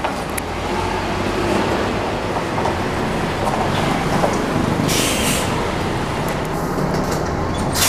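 Haryanto bus 008, a Hino RN Jet Bus 2 on the morning run from Wonogiri, arriving with a loud, steady engine rumble and road noise, close and continuous throughout.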